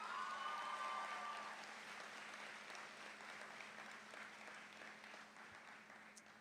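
Graduation audience at a high school ceremony applauds the graduates' families, a broad steady wash of clapping from many hands that stays fairly even and slowly tapers across several seconds, with no talk over it.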